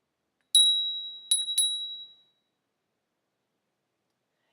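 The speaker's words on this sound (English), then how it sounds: "This is a handbell." A handbell is struck three times in close succession, each bright metallic ring fading out. The tone is clear and near, with silence after the last ring.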